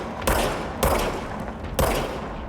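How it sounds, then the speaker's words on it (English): Three heavy gunshots from a gun in the game Control, fired at an even pace about half a second apart, each a loud boom with a short rumbling tail and no talk. "Now I have a gun."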